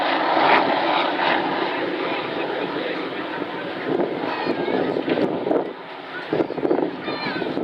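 An OH-6 helicopter flies in fast at an air show, a loud continuous roar with wind buffeting the microphone, its level dipping slightly near the end.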